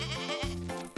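A goat gives a loud, close, wavering bleat, one drawn-out call with a brief break partway through, heard on its own.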